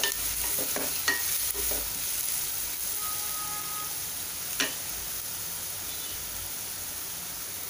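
Onion fries in oil with a steady close hiss of sizzling, punctuated by a few clicks and scrapes of stirring early on and one sharp clack later.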